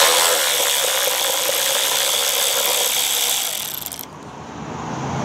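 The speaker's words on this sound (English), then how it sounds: "The electric quarter inch ratchet that I'm using today, righty tighty, lefty loosey." An electric quarter-inch ratchet driving a fastener on a Snapper mower, a steady loud whirring mechanical buzz for about four seconds that cuts off abruptly, followed by quieter room noise.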